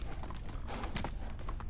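Rapid clip-clop of donkey hooves while riding in the game Medieval Dynasty, a close, steady run of quick hoofbeats with no talk over them.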